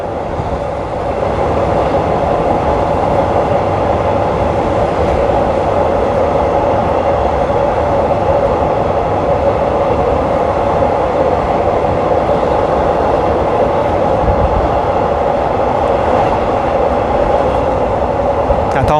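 Continuous loud interior rumble of a train on an elevated line between Don Mueang and Krung Thep Aphiwat in Bangkok, with faint rhythmic wheel clatter throughout and no break in the drone.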